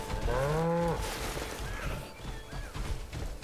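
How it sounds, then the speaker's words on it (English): A cow in the video game Crimson Desert gives one loud, drawn-out moo near the listener, followed by muffled game ambience and scattered thumps. "Can I tame a moo cow?"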